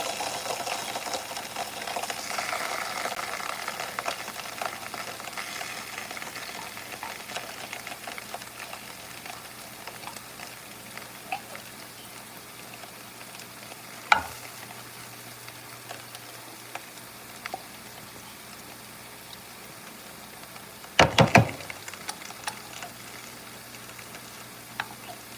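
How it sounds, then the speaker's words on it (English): Tinned tomatoes frying in a pan while being stirred, a steady low sizzle running throughout with occasional scrapes and clatters of the spoon against the pan, including a sharper cluster near the end. "That's my tin tomatoes that I'm applying. And I have to stir it"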